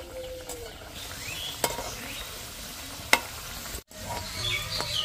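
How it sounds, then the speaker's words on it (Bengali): Flattened rice and gram flour rolls fry in a pan with a soft, steady sizzle, broken by a few sharp clinks of a utensil against the pan; no one speaks. "একইভাবে ভেজে নিচ্ছি।"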